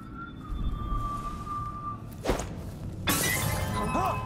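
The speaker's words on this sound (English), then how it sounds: "That sounded like broken glass." Glass shatters in Dishonored: Death of the Outsider, a sudden bright crash of breaking glass cutting through low ambient game hum and a faint tone, with no talk.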